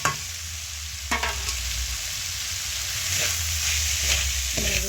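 Pre-fried cabbage and potato are stir-fried in a pan with Kashmiri chilli powder, making a continuous sizzle broken by several sharp scraping strokes of a spatula.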